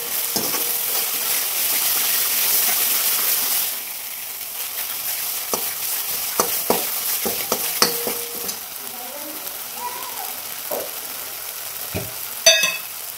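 Masala fries in oil until the oil separates, a close sizzle first steady, then broken by scattered spatula scrapes and sharp stirring knocks against the pan.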